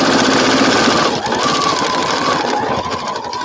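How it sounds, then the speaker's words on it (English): A sewing machine stitching quilt fabric runs loud and close, a fast rapid stitching drone that shifts pitch slightly midway and carries on without pause. "it takes some good sewing machine power"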